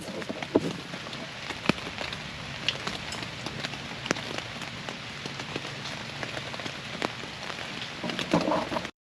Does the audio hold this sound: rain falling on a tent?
yes